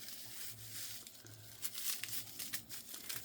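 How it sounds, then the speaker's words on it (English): Completely dried dandelion leaves crinkle and rustle like paper as they are handled close by, a soft continuous crackling with a few sharper bursts and no talk. "You can hear the sound of the completely dried leaves. They sound kind of like paper rustling."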